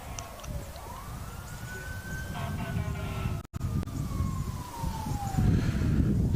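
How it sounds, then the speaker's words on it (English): Fire truck siren wailing in the distance behind an outdoor cricket match, a slow rising and falling tone that carries over ambient crowd and wind noise. "Sound of the fire truck in the back."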